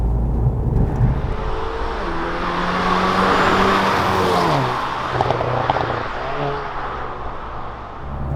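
A 2021 Hyundai Veloster N with an 8-speed dual-clutch transmission drives along, its engine note climbing in pitch, then dropping at a smooth gearshift before pulling again over steady road rumble from inside the car.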